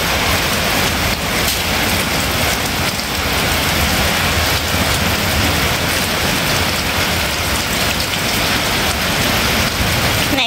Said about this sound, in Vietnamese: giờ này còn mưa nha cả nhà. Mưa tới tối ngày nay luôn đó.